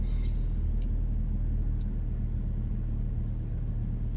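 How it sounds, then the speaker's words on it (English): Inside a car, a steady low engine and road rumble fills the cabin, constant and fairly quiet with no voices. "All right, we're in the car."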